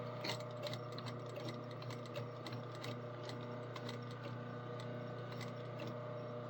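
Steady close-up machine hum and ticking chatter run throughout while a sewing machine topstitches along a waistband, with no voices over it.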